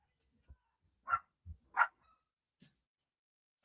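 Pet dogs indoors give a couple of short, sharp barks with a few softer thumps and yips between, faint and sparse against a quiet room.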